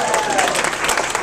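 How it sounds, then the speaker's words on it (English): Steady applause from a comedy club audience fills the whole moment, dense clapping at an even, sustained level. "I believe that deserves a round of applause."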